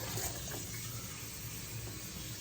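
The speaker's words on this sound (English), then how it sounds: "just get some water in there" Water runs steadily from a kitchen tap into a big icing-coated mixing bowl in the sink, a continuous, even splashing rush held at a constant level throughout.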